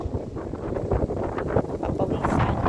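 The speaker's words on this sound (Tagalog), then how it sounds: "Lakas pa ng hangin." Strong wind buffets the microphone outdoors at the Sydney botanic garden, a steady loud roar with gusts throughout, with faint voices under it.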